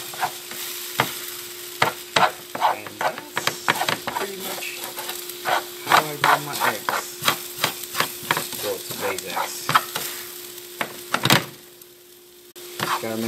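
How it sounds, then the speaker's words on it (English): Scrambled eggs are stirred in a hot frying pan with a spatula scraping the surface, making a steady close sizzle broken by frequent clacks and scrapes. A voice talks intermittently over the cooking. "Gotta make sure you keep stirring it because you don't want it to get it stuck"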